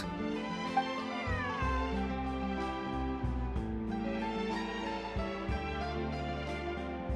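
A cat in Genshin Impact meows repeatedly in drawn-out, wavering calls that rise into caterwauling, loud and close, heard alone over a soft game-music bed.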